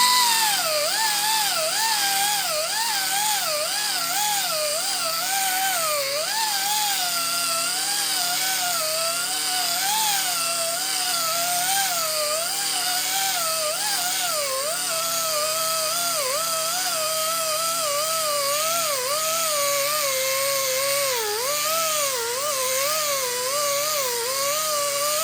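A power sander works curb rash scratches out of an alloy car wheel, pressed flat against the rim; a steady, loud whirring grind runs throughout with wavering pitch as the pressure shifts, and no one speaks.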